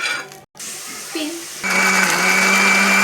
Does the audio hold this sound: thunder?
no